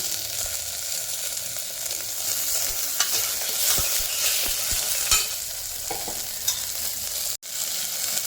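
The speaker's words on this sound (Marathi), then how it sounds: "कांदा पण परतून झाले त्याचे थोडेसे आपण आलू मिरचीचे पेट घेणार कापलेला टॅमॅटो आहे" Onion, potato, green chilli and chopped tomato fry in a pan, making a steady close sizzle with soft tapping and scraping as the mix is stirred.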